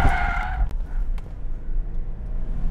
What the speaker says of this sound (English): the Subaru BRZ make me look good attempting to drift the hill climb